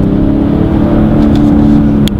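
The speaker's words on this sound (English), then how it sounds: "That typical sound of the BMW 6-in-line is just amazing." BMW X5 xDrive45e plug-in hybrid SUV with its inline six-cylinder petrol engine running, a loud, steady engine drone close by with a slight rise in pitch as it revs.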